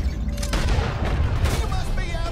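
A Red Dead Redemption video game shootout against the U.S. Army, with rapid overlapping gunshots and booming reports in a dense, loud barrage.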